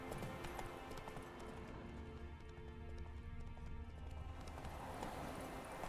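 Hooves of a horse galloping in the video game The Witcher 3, a quick rhythmic clip-clop running steadily throughout, with a brief whinny and faint game ambience beneath.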